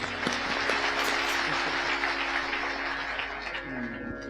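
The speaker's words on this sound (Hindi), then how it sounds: "हमारी ओर से आपके लिए ताली।" A crowd at a religious katha gathering in Pawandham Vadali applauds in a dense, steady roar of clapping that carries on for the whole stretch, with little talk over it.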